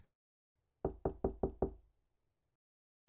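Five quick, firm knocks land on a door in an even rhythm, close and hollow, and a single knock follows after a pause.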